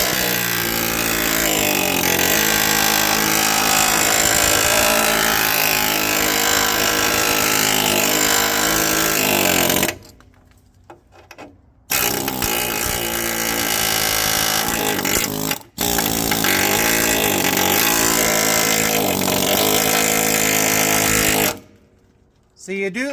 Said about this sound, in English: this is another spot here where the air hammer will make a big difference